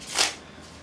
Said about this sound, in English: just doing a single cut, and then shuffling maybe, so maintaining that top card